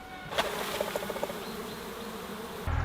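A dense, steady drone of many honeybees buzzing up close at the hive, continuous and fairly loud throughout, with a few faint clicks near the start.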